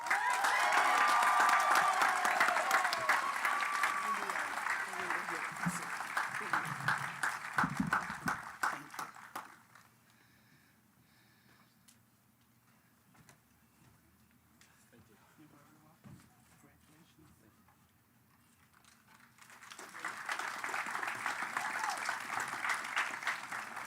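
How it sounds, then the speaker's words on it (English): Audience applause at a Cazenovia College commencement ceremony: dense, loud clapping for several seconds fades to near quiet, then a fresh round swells up again. "Let's have another round of applause for all our student award winners."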